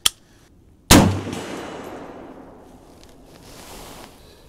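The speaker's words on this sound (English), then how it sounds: "we'll start shooting the steel over there to the right and see what we get" An AR 47 rifle fires Wolf Classic ammunition at steel targets outdoors. A short first report is followed by a single loud, close shot with a long rolling echo that fades over several seconds.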